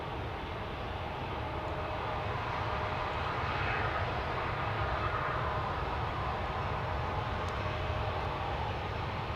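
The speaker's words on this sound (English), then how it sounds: "Somewhere over there they are testing an airplane engine." A steady, distant airplane engine test run at Amsterdam Schiphol Airport roars continuously, broad and unchanging throughout.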